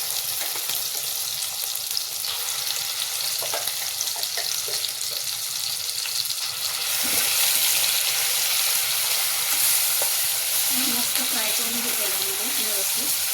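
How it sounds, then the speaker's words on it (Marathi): Masala fries in oil for a spicy chicken gravy, a dense, loud sizzle that swells louder halfway through, with faint stirring scrapes underneath. "आता मसाला फ्राय करते"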